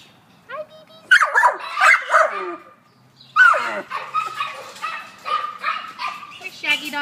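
Dogs bark and yip at a city animal shelter, several sharp close bursts in two clusters with whimpers, while people talk softly alongside.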